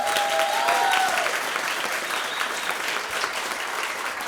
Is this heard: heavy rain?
no